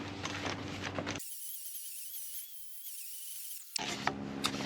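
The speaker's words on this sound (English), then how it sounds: "I don't want to grind too much off" A 40 grit flap disc grinds 316 stainless steel for an anchor roller, a high steady whine lasting a few seconds, close and loud, framed by harsher broadband noise before and after.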